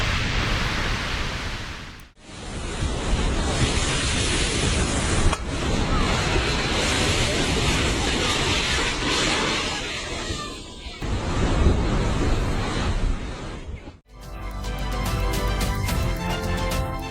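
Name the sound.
molten lava pouring into the ocean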